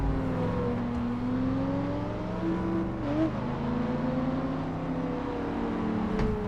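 Engine sound from a car in the racing video game The Crew, played with a Fanatec Clubsport Wheel V2: a steady, continuous drone with shifting pitch, rising and falling slightly as the engine revs, heard alone without talk.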